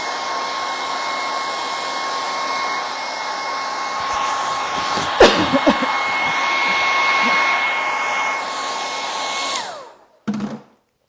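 A hair dryer blows steadily on freshly stenciled primitive-style paint with a loud, even whirring hum, broken by a few bumps and knocks before it switches off near the end with a final brief rattle.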